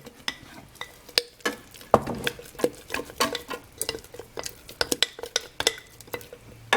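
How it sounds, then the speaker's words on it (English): Spoon scraping and clinking against a container as a sourdough starter of whole wheat flour and water is stirred, a steady run of sharp close taps and soft wet scrapes with no talking. "we'll just stir it up"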